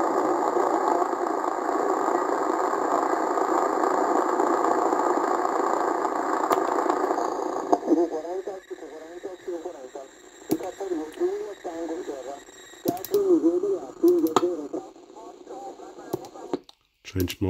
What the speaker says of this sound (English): This is how SSB sounds with the QCX SSB modification.